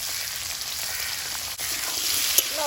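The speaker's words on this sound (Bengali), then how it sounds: "লবণ হলুদ দিয়ে সবজিটা ভালোভাবে ভেজে নেব" Vegetables for a potato curry fry in hot oil in a wok with salt and turmeric, giving a steady close hiss and sizzle that grows slightly louder toward the end, with a faint clink near the close.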